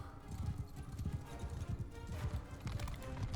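Horses galloping in the medieval game Mount and Blade II: Bannerlord, a continuous rumbling clatter of many hooves, fairly quiet and steady throughout.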